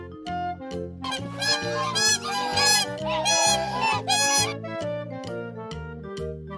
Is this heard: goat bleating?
no